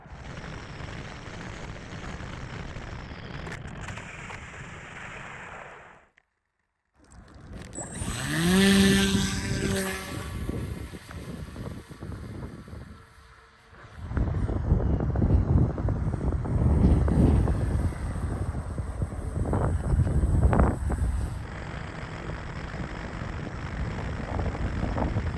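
A V-tail pusher RC airplane comes in for an automatic landing outdoors, its small motor whining faintly amid heavy wind buffeting on the microphone, then a brief scrape and rustle as it touches down.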